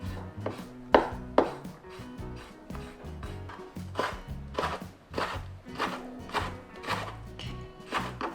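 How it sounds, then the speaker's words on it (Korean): A knife cuts squid on a cutting board for sweet and sour squid, giving a steady series of close, sharp chops and thuds over faint background tones. "이렇게 잘라서 하셔도 돼요"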